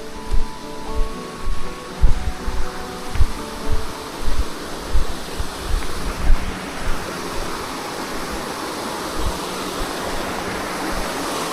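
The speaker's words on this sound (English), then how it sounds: "I hear some water." Water flows outdoors on a backpacking trail in the Grayson Highlands, a steady broadband rush heard close by. It comes under uneven thumping bursts for the first half, then continues alone as a smooth wash.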